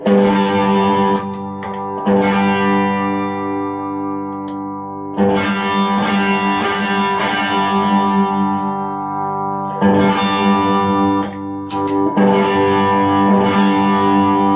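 Heavily distorted electric guitar chords, played through a distortion pedal, ring out loud and sustained, in several strummed phrases with brief pauses between them.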